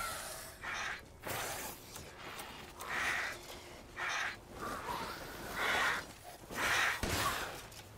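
Crows caw repeatedly in the video game Resident Evil Village, a series of harsh calls in an irregular rhythm over a quiet, eerie background, each caw clear and moderately near.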